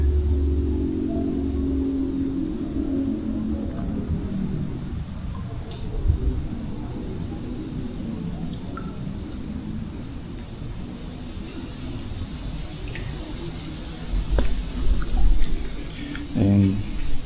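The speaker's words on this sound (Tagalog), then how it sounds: "Ito yung malaking fountain." A large fountain splashes steadily outdoors as a soft, continuous wash of falling water, with people talking nearby and low rumbling noises rising toward the end.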